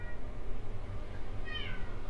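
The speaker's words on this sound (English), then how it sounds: "you hear the cat" A house cat gives one short, rising-and-falling meow near the end, fairly close but soft, over a quiet indoor room hum with no talking.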